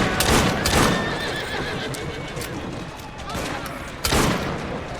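Carriage horses whinny loudly in the streets of Assassin's Creed Syndicate, with a couple of sharp neighs near the start and another near the end over steady clip-clopping hooves and rolling wheels, a few gunshot-like pops mixed in.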